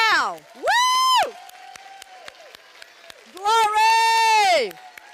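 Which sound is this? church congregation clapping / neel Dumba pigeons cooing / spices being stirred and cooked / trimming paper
church congregation clapping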